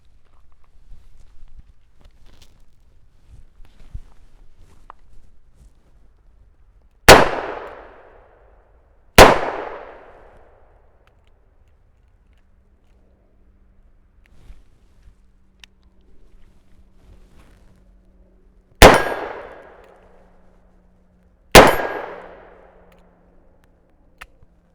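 Taurus Tracker .44 Magnum revolver fired outdoors at steel, four sharp loud shots in two pairs with ringing decays and quiet gaps between them.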